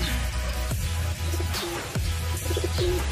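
Pigeons coo softly and repeatedly in a breeding loft with young birds, against a steady background hum, with occasional rustles and chirps nearby.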